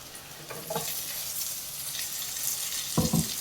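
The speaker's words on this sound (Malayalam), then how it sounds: "ഇനി നമുക്ക് ഈ അരിഞ്ഞു വെച്ചിരിക്കുന്ന ഉള്ളി, ക്യാപ്സിക്കം, ടൊമാറ്റോ ഇതെല്ലാം കൂടെ ഇട്ട് കൊടുക്കാം" Chopped onion, capsicum and tomato sautéing in a pan for butter garlic paneer fried rice, a moderate steady sizzle with a few brief clatters of a utensil against the pan, fairly close.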